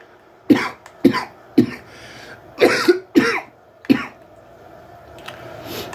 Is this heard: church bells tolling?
no